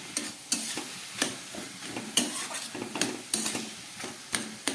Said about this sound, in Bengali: সব কিছু দিয়ে খুব ভালোভাবে নেড়ে এটাকে অনেকক্ষণ ধরে একদম শুকনো শুকনো করতে হবে